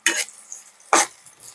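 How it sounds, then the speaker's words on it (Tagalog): Onions sautéing in a pan for ginisang talbos ng kamote with sardines, with two sharp bursts of stirring scrapes and sizzle close up and a faint hiss between them. "Narinig mo ba, mga Mars, yung ginigisa ko?"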